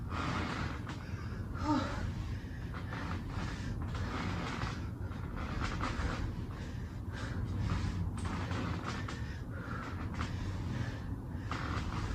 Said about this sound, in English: I know you guys can hear my breathing. I'm breathing hard.